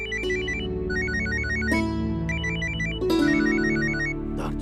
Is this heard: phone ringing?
yes